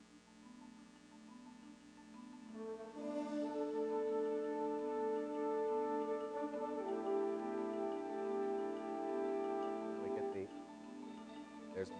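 An orchestra performing short musical motifs: sustained, layered orchestral tones swell in after a quiet start and hold steadily, with a brief disturbance near the end.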